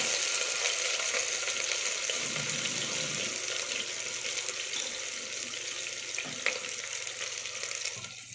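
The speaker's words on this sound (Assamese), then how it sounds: "এই পিঁয়াজখিনি মই ৰঙচুৱা হোৱালৈকে ভাজি ল'ম" Steady sizzling of onions frying in a pan over low flame, a constant crackling hiss at moderate volume with no talking.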